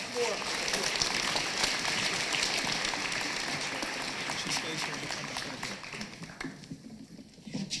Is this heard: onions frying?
no